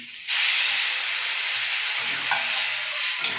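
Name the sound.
plain water poured into frying spiced vegetables for shukto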